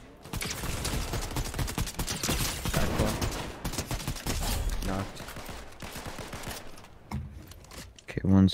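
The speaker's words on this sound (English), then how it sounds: "I hear gunshots." Gunfire in the video game Fortnite, a dense stretch of rapid shots and bursts close by, running loud and continuous across the stretch, with mechanical clicks near the end.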